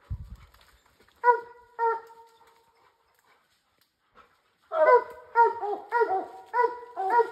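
A bear hound gives two short barks, goes quiet, then breaks into a run of whining, yodeling bays close by.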